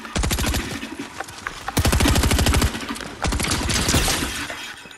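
Rapid automatic gunfire in a video game, several long sustained bursts of fast repeated shots, loud and close, separated by brief pauses, with no talking.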